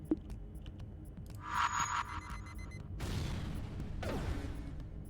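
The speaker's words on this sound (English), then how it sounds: "Wow. It's a bomb." A breach bomb goes off in the space strategy game FTL: Faster Than Light, a synthetic burst followed by a rumbling blast and a second swelling rush, heard alone with game tones.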